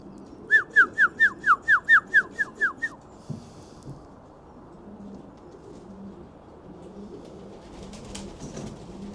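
Racing pigeons call from a loft: about nine quick, even, repeated notes in a row, fairly close and clear, then fading to quiet background rustling with faint calls at the end.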